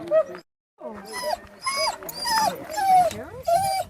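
Sled dogs at a dog sledding kennel in Banff National Park, aged 18 months to 13 years, letting out repeated close whines, yelps and howling barks in quick bursts, with brief gaps between them.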